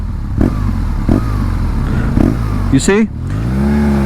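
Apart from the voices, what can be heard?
BMW boxer motorcycle engine idling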